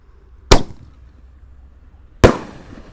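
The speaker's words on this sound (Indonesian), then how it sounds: "Sore ini kita ngabuburit menyalakan banyak sekali mercon guys." Two sharp, loud bangs from a firework launcher, a roman candle style mercon, fire outdoors in the late afternoon, spaced about a second and a half apart with brief crackling tails and quiet in between.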